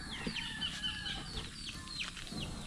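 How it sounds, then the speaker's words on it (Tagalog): Chickens cluck and chirp in a busy backyard chorus on a rural farm near rice fields, several birds calling repeatedly at moderate distance with steady ambient noise. "Puro tunog lang ng mga alagang manok."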